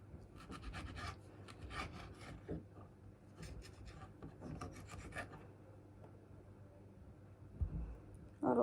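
A knife roughly chops two tomatoes on a board for a mustard tart, a close run of rasping, scraping strokes in bursts, then quieter toward the end.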